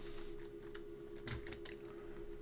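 Quiet computer keyboard typing, a few scattered keystrokes and a short burst of clicks, close but faint over a steady electrical hum.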